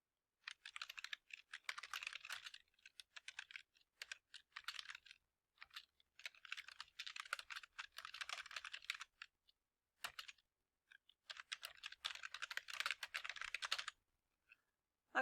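Bursts of typing on a computer keyboard, quick clattering keystrokes in runs separated by short pauses, close and fairly quiet.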